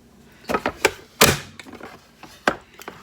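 Garlic being chopped and minced with a knife on a board for dill pickles: a handful of sharp, irregular knocks close by, one heavier thud in the middle, with quiet gaps between strikes.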